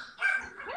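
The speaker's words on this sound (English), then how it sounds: "stop the dogs from fighting." Dogs fighting indoors during a home art stream, giving a short, loud burst of barking and yelping that fades into a whine within a second.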